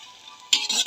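Pad thai noodles being stir-fried in a wok, scooped and turned with a spatula: a steady sizzle that bursts louder halfway through as the noodles are tossed, close and alone.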